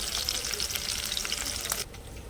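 Tempering seeds, curry leaves and a couple of garlic cloves frying in hot oil for a village-style ivy gourd curry, a loud, crackling sizzle with stirring that cuts off sharply near the end, leaving quieter background.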